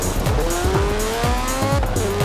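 A revving car engine in Forza Horizon 4 with rising gear-shift sweeps and tire squeal, loud and continuous, during a street race.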